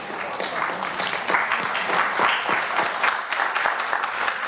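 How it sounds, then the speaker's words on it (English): Applause from the audience at a senior talent show, a continuous mass of hand claps with a slightly uneven, rolling texture, sustained throughout at moderate loudness. "let's give her a nice round of applause."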